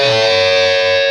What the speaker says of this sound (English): It's kind of like a unison bend, but you're basically bending to a root and a third.